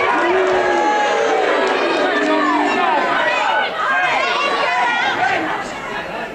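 A 1980s British wrestling crowd at the Forum Theatre in Hatfield, a loud, dense roar of chatter, shouts and cheers that stays steady throughout before easing slightly near the end.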